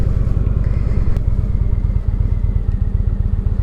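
A 2017 Indian Springfield's 111 cubic inch air-cooled V-twin idles nearby with a loud, deep, lumpy throb and steady, uneven pulses, with no talk over it.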